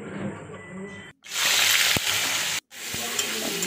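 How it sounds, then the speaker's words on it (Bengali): Carrot frying in oil in a kadai while being stirred, a loud bright sizzle that rises suddenly and holds, broken by two brief silent gaps, with a spatula knock partway through. "গাজরটা ভালো করে নেড়ে চেড়ে ভেজে নেব"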